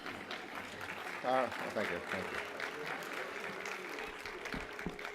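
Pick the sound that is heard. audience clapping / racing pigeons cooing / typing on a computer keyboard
audience clapping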